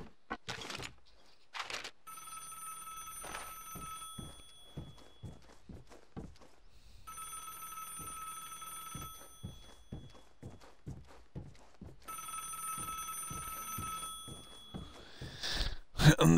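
A telephone rings in three long trilling bursts separated by pauses, with scattered footsteps and thuds throughout the room.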